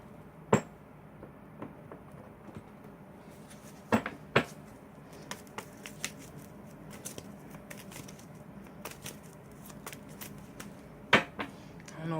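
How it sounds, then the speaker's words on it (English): Tarot cards being shuffled and cut in a quiet room, giving soft irregular riffling and several sharp taps and slaps as the deck is handled, close by with no talk. "So I'm going to shuffle."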